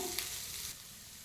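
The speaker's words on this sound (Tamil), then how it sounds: "ஒரே ஒரு காஞ்ச மிளகா போட்டு இந்த கோஸ் அதிலே போட்டுடலாம். போட்டுட்டு நல்லா கொஞ்சம் வதக்கணும்." Shredded cabbage sautéing in oil with mustard seeds, cumin and a dried red chili gives a brief, faint, steady hiss and sizzle up close, with no talk over it.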